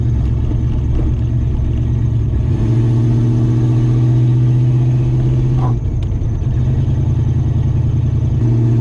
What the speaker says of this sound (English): Yeah, I hear turbo noises in the exhaust.